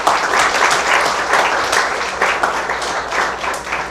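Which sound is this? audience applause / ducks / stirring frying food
audience applause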